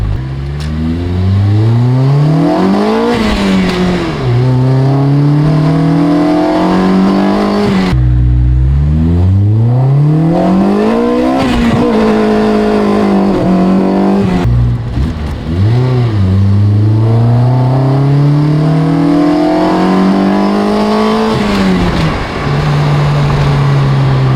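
Built K20-powered Honda Civic EK revving hard with its wheels spinning for lack of traction, loud engine notes climbing and dropping repeatedly through rapid gear changes, close and continuous with no talk.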